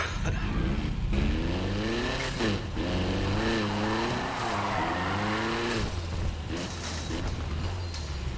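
A car races in Need for Speed Heat with a loud, close engine revving and shifting through rising and falling pitch sweeps, tires squealing, and the roar carrying steadily throughout.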